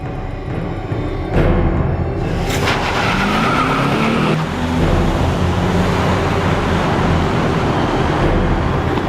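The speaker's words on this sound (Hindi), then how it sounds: "चल चढ़ा सुरेंद्र, चढ़ा दे गाड़ी।" A car drives forward and skids, tires squealing loudly across the road in a long continuous screech with engine noise beneath, in a crime drama scene.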